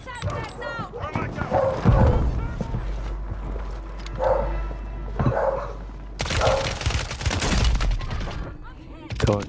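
Semtex grenade blast and loud bursts of gunfire in a Fortnite-style online shooter match, close and dense, with a sharp broadband burst partway through and players chattering over the action.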